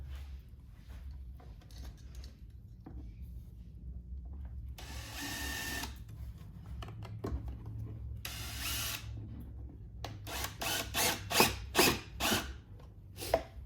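Power screwdriver driving screws into the woofer mount of a 2022+ BMW K1600 motorcycle speaker, heard as a long burst, a second burst, then a rapid series of short whirring pulses, close and fairly loud with no talk.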